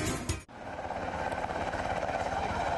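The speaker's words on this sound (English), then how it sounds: "This is a helicopter simulating a rescue." A helicopter flies during a simulated rescue, with a steady loud rotor and engine roar that continues after a brief dip near the start.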